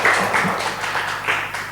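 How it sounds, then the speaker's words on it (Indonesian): Audience applause at a motivational talk, a short burst of many hands clapping together, fairly loud and continuous with small swells. "Tepuk tangan lagi sekali"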